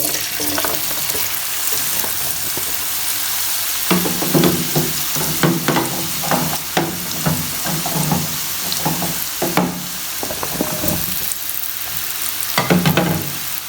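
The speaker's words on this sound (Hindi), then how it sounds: "मैंने पैन में ऑयल पहले से रख दिया हुआ था, प्री हीट हो चुका है। अब इसके अंदर हम डालेंगे पोटैटोज को।" Potatoes sizzle in preheated oil in a pan for homemade KFC-style French fries, a loud constant hiss broken by clattering stirs and knocks of a utensil against the pan, with no talk.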